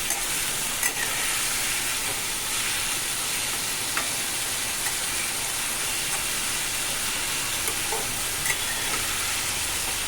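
Food sizzles steadily in a hot pan while being stirred, a continuous close hiss of frying with faint scraping, and no voices.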